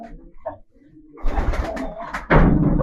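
Pigeons in a loft give soft, throaty coos, then louder bursts of rustling and flapping close by. The scene is otherwise quiet.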